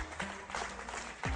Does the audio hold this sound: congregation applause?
yes